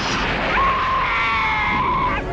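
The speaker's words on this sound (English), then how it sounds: "She gives a pretty good scream" A woman in the film Hellraiser 2 lets out a sustained, shrill scream lasting about two seconds, loud and close, over a dense, rumbling background.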